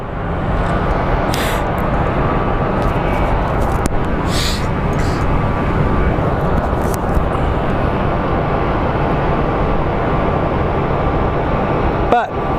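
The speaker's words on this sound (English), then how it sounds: "That is the American airline that just landed." An American Airlines jet landing at Phoenix Sky Harbor International Airport produces a steady, loud broadband roar that persists throughout, with brief higher-pitched bursts layered on top.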